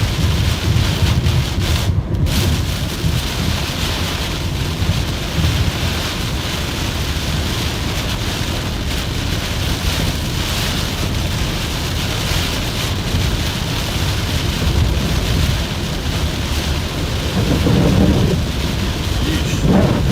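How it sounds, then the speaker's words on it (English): Heavy rain pours steadily on a vehicle driving along a road, a dense continuous roar of water with a brief swell near the end as tires hit standing water in a turning lane; no one speaks. "We're getting a whole lot of rain."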